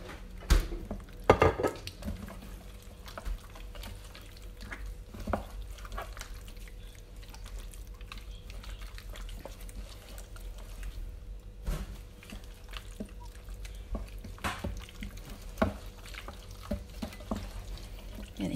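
Lamb biryani being stirred with olive oil in an Instant Pot, soft scraping and clinking of a utensil against the metal pot in scattered taps, faint and close.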